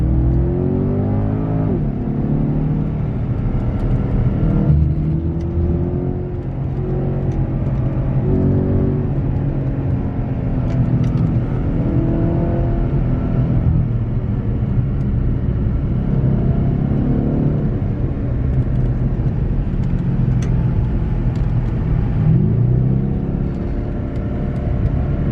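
A Porsche Panamera driven hard through corners gives a continuous loud engine roar from inside the cabin, rising and falling in pitch with the gear changes and lifts between bends.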